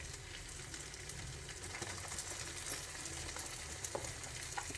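Onions frying in a pan with cumin powder and turmeric for a palak paneer and potato gravy: a soft, continuous sizzle with faint stirring scrapes and occasional light clinks, fairly quiet and alone.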